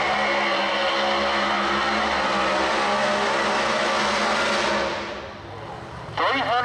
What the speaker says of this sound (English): How about that burnout all the way to the finish line?